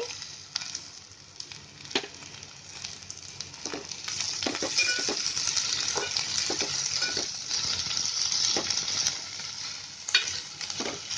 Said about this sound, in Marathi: आता याच्यामध्ये आहे ना मी आता हे मूग टाकते.